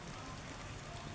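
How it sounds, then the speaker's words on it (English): A heavy rain shower pours down outdoors, a dense, steady hiss of falling water with no voices. "We're having a real rain bath. Getting soaked."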